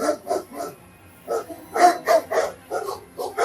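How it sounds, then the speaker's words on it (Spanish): Dogs bark wildly, loud and near, firing off a quick run of yips and barks, then a short lull, then another burst of overlapping barks. "Entonces los perros empezaron a ladrar como animales salvajes."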